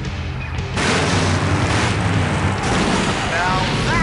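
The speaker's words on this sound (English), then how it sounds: "Now that's an explosion, ladies and gentlemen!" In the Full Throttle video game, an explosion goes off at a demolition derby, a sudden loud blast that swells into a sustained roaring rumble for several seconds.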